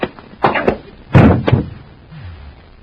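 Door slams in an old-time science-fiction radio drama: a few heavy, close wooden thuds, with one big slam in the middle and a trailing rumble after it.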